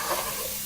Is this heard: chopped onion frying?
yes